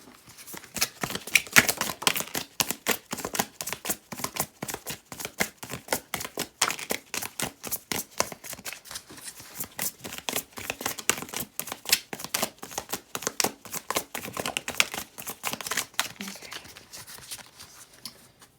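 Oracle cards are shuffled by hand, a rapid run of soft riffling and flicking clicks that continues steadily and close by for the whole stretch.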